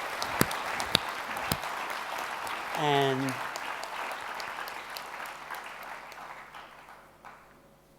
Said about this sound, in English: Why don't we clap them?